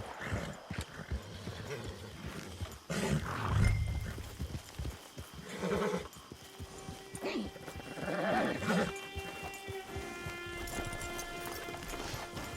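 A horse in Red Dead Redemption 2 snorts and whinnies while hooves clip-clop at a walk, set against an ambient game soundscape that stays fairly quiet throughout.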